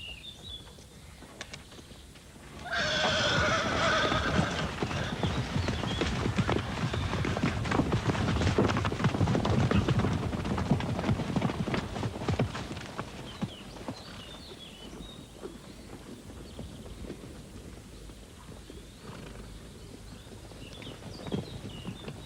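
A horse neighs with a rising whinny, followed by a long stretch of hooves pounding the ground at a gallop, fading off as the run passes.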